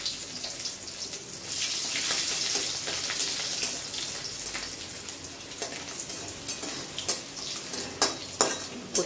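Crushed garlic dropped into hot oil for a taro leaf curry, a bright sizzle that swells and settles, with a spoon scraping and clinking against the pan toward the end.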